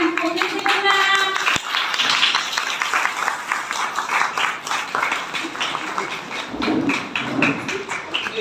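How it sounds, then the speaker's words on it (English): An audience at a school event claps for the principal in a loud, dense burst of clapping with some thumps, while a voice speaks over the start. "Everyone clap your hands for Principal ma'am"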